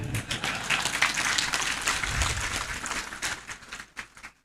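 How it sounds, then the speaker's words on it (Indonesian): An audience at an Islamic religious lecture gives scattered, hesitant hand claps, a moderately loud patter of uneven beats that thins out and fades near the end. "Kenapa Anda tepuk tangannya ragu-ragu?"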